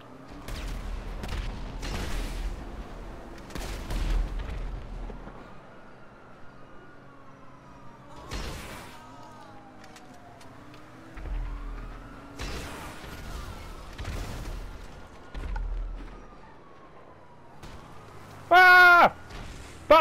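Gunfire in Grand Theft Auto V comes as scattered bursts of sharp shots separated by quieter stretches, with wailing police sirens sweeping in the background and a brief loud electronic tone near the end.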